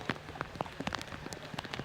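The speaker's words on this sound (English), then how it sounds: "that rain coming in the press box a little bit" Rain blowing into a baseball press box during a wet, windy college game, a steady patter of scattered drops ticking on nearby surfaces.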